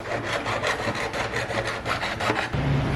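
Hand saw cutting a plastic container in half to make a water filter diffuser, a steady run of rhythmic back-and-forth rasping strokes, close and loud, ending with a heavier low thump.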